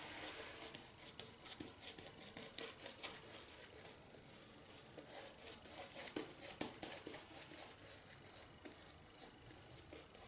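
A razor drags across a face lathered with Phoenix & Beau Citra Royale shaving soap, making a close, quiet, continuous raspy scraping of repeated short strokes.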